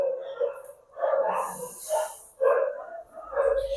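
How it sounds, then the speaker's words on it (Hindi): Several dogs bark outdoors at some distance, in uneven bursts with short pauses between them, rising and falling against quiet background noise. "आवाज आपको सुनाई दे रहा होगा कुछ कुत्तों के"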